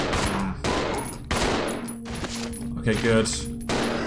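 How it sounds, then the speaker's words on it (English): Gunfire in Resident Evil 0 HD Remaster rings out as several loud, sharp shots spaced about half a second to a second apart, with game sounds and someone briefly speaking between them. "Let's shoot them again."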